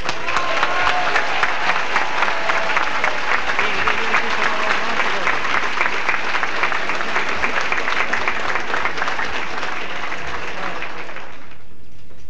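Sustained audience applause welcoming Italian President Cossiga at a 1988 gathering in Adelaide: a full, steady roomful of clapping lasting about eleven seconds before stopping abruptly.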